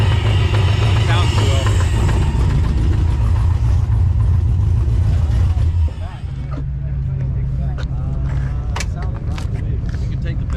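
A supercharged car engine idles loud and close with a low, rough, uneven running note from a developing knock, the tone dropping and steadying partway through as people talk nearby.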